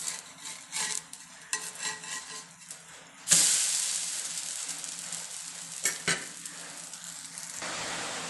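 Dosa batter cooking on a hot griddle: quiet scraping and clinks, then a sudden loud burst of sizzling that settles into a steady close hiss, broken by a few sharp scrapes.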